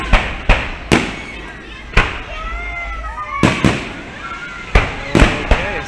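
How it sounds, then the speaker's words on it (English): Fireworks burst over a carousel swing ride at night at an amusement park, sharp loud booms at irregular intervals, around eight in all, with whistling rising streaks between them. "Oh jeez, the fireworks are going off."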